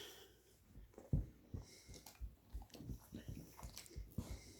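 A dog chews a treat close by, with quiet irregular wet crunches and squishy bites repeating over several seconds, soft and without speech.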